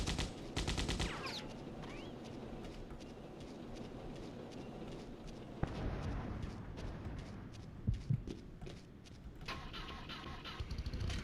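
Enemy gunfire in the video game Codename Eagle, bursts of shots mixed with a rumbling engine and battle noise, with sharp loud cracks around the middle and near the end.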